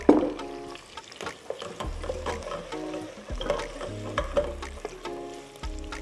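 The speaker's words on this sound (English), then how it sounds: "you fry that for some minute" A Nigerian jollof sauce base sizzles in a pan while a utensil scrapes and stirs in uneven strokes, close by, with no voices.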